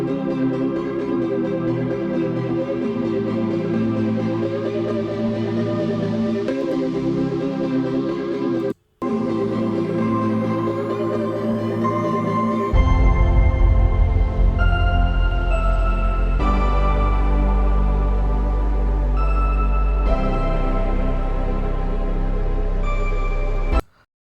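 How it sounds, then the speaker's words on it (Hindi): Music track playing in Audacity, with sustained tonal chords and melody holding steady, a brief dropout near the middle, then a deeper bass-heavy section with held notes through to the end. "यहाँ पर मैं एक म्यूज़िक है, आप इसे सुन सकते हैं।"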